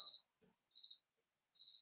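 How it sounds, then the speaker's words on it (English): Crickets chirp through an open door. There are three short, faint bursts in a regular rhythm, heard alone in a quiet room. "you can hear crickets"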